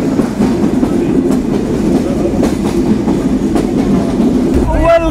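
The Chitra Express night train passing Paksey railway station in Pabna, with a loud, continuous rumble and rhythmic clickety-clack of wheels on rails heard from on board, and a brief squeal near the end.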